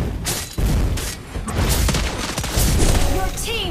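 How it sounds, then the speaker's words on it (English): Turret destroyed in the Mobile Legends mobile game: dense, loud game-fight audio with booming blasts and rapid bursts of gunfire-like impacts running throughout, ending with a rising chime-like effect. "Your team destroyed a turret."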